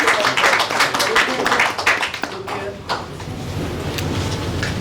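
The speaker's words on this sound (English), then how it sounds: "Can you clap?" An audience at an intellectual property conference session in Dubai claps in a dense, steady burst that fades out midway, with a voice talking over it.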